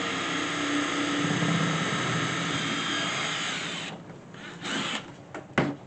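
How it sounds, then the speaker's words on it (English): A power drill bores holes into a new kitchen cabinet for knobs, whining steadily for about four seconds before it cuts out into a few short, choppy bursts. "He's drilling a hole to put on knobs without measuring."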